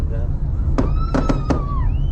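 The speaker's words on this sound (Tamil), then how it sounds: "ஸோ பட்டாசுலாம் பயங்கரமாக வெடிச்சுன்னுக்குறாங்க." Firecrackers burst at a crowded Kali Amman temple festival, four sharp cracks close together within a second, over a loud steady crowd din and whistling tones.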